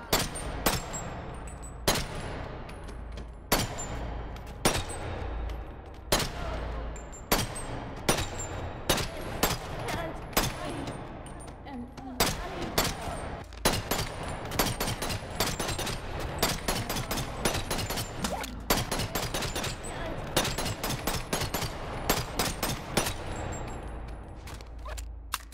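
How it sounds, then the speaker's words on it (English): Repeated M9 pistol shots fired in the VR game BoneLab, sharp loud cracks at an uneven, fairly steady pace of roughly one to three shots per second, each with a short reverberant tail. "The M9. It has a really satisfying sound and feels super smooth to shoot."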